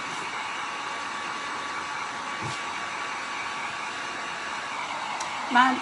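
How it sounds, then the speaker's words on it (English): A hair dryer drying paint on a galvanized pail blows a loud, steady airy roar from start to finish, close by, with a faint knock near the end. "I'm gonna dry this real quick."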